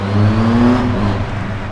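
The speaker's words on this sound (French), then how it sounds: "Ah là là, la sonorité de ce 3 cylindres" Triumph Tiger 1200 Alpine three-cylinder motorcycle engine revving up, a loud close mechanical drone that swells and then eases off over under two seconds.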